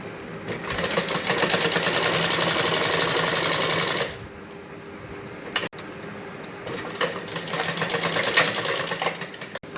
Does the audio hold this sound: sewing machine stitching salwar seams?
yes